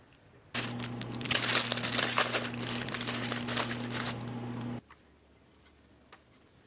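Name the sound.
paper towel being crinkled into a lunch box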